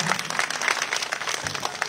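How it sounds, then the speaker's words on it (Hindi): Loud, dense applause from an audience at a political party meeting, steady clapping filling the whole stretch without pause. "एक बार जोरदार ताली बजाइए"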